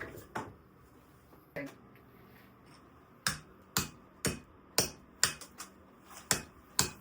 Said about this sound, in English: I might start with a hammer and a point.